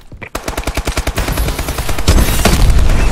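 Rapid automatic gunfire from a remote turret in a video game: fast, loud bursts of shots that speed up into a dense, continuous rattle with booming low end, heard alone without talk.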